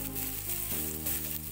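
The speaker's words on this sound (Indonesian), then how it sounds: "Terusnya kita tumis deh bawang putih sampai harum." Garlic sautéing in a hot pan for chili salt squid gives a steady, moderately loud sizzle across the whole moment, with a faint tonal hum running underneath and no talking.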